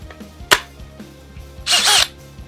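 A power drill bores through a wooden table top to mount a Jeep JK switch pod, a sharp short burst followed by a louder, sustained whirring grind of about half a second, close by with no talk.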